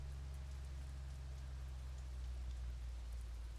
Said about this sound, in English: Apparently it's very rainy in Poland.